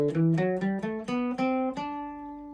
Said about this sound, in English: Mixolydian sounds like this